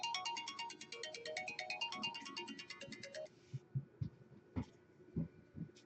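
A phone ringtone plays a quick, repeating electronic melody for about three seconds, then stops. A few soft dull thumps and faint handling noises follow in a quiet room.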